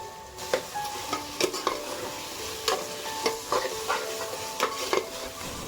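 Amaranth and methi leaves sautéing with ground tomatoes in a pan, stirred with repeated scraping, clinking strokes over a steady close sizzle, with no talking.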